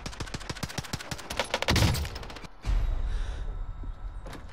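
Rapid automatic gunfire from an MP5 in the video game Warzone, a dense burst of close, loud shots for about two seconds, then a heavy thud and lingering noise.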